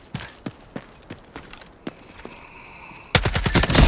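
Delta Force video game gunfire with purple ammo: scattered single shots and short bursts crack at varying distances, then a loud, close, rapid automatic burst erupts at the end.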